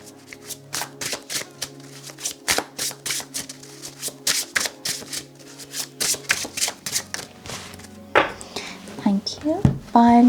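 A deck of tarot cards is shuffled by hand in a series of quick, crisp riffles and soft flicks, close and clear, with a voice talking through the shuffling.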